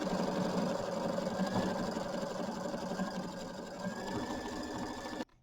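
A sewing machine quilting a small mini quilt runs steadily and close, a fast even mechanical whir of needle strokes lasting about five seconds before stopping abruptly.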